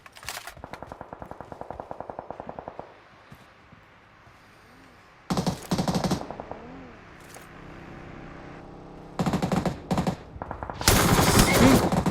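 Gunfire in the PUBG battle game: a rapid automatic burst, then a lull with a faint engine-like drone, followed by more loud bursts of automatic fire near the end, sharp and close.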